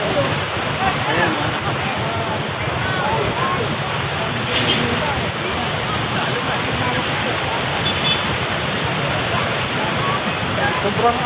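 Overflowing floodwater from a typhoon in Santa Rosa, Laguna, rushing continuously in a loud, dense roar like a waterfall, steady throughout with no pause.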